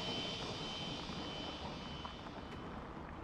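A spaceship engine roars steadily during a landing in the survival game Osiris: New Dawn: a dense, even jet-like rumble and hiss that holds at constant loudness throughout, with no speech.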